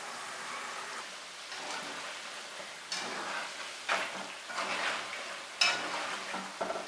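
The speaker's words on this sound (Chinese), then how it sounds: "锅中多来点油，油温5成热，下入土豆云吞，中小火慢炸" Potato wontons deep fry in plenty of moderately hot oil over medium-low heat, giving off a soft, steady bubbling sizzle with occasional louder crackles and stirring clinks.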